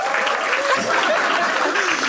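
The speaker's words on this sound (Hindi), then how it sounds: "आप चिराग के लिए ताली बजा दो एक बार" A stand-up comedy show crowd applauds the night's winner, Chirag, with steady close clapping mixed with chuckles and light laughter, voices audible underneath.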